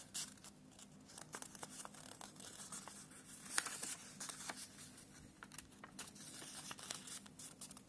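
A paper sewing pattern folded closed at the shoulder dart, giving soft, faint crinkling and rustling with small scattered crackles, close by and quiet, with no talking.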